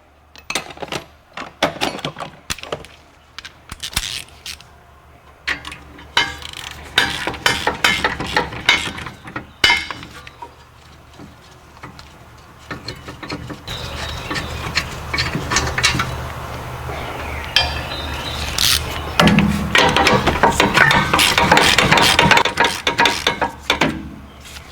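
A ratchet loosens the 17mm caliper bracket bolts on an Acura MDX during rear wheel bearing work, making bursts of rapid clicking. Metallic clanks and tool handling sit between the bursts, busier and louder toward the end.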